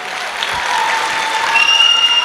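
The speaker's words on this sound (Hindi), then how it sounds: "रिशिता, तालियां बहुत कम बजाते हो यार" Audience clapping at the grand finale of a dance competition, a steady broadband patter that swells slightly toward the end, with faint tonal squeals from the hall's sound system.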